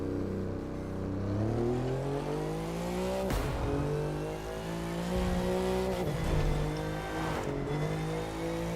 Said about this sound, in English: that transmission sound